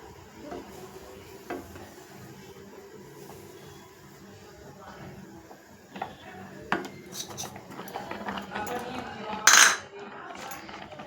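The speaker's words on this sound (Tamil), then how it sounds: "ரவையை போட்டு நல்லா கிண்டி விட்டுக்கலாம்" Semolina stirred in a metal pan: light scraping and intermittent spoon clinks against the pan, growing busier toward the end with a sharp metallic clatter, faint cooking hiss beneath.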